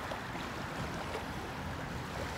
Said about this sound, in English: Look at the waves.